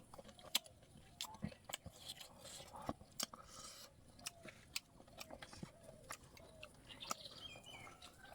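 Chicken feet being chewed up close, with a steady run of sharp crunching bites and moist chewing clicks spread across the clip, loud against a quiet room.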